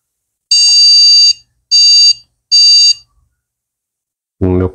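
A computer with a Ryzen 5 5600G gives a memory error beep code: three long, loud electronic beeps in a steady sequence with short gaps, followed by a brief low thump; no talking.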